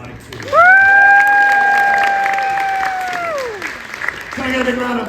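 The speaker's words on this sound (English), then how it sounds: "You can clap that if you like to." A theatre crowd at a pirate-themed family show claps while a high sustained cheer rings out over it, the noise dropping away after a few seconds before a voice returns.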